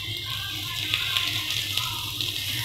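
Veg burger patties frying in a pan over a medium flame, a steady close sizzle with faint intermittent pops throughout.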